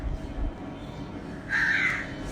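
A single crow caws once, fairly close, over a steady low background rumble.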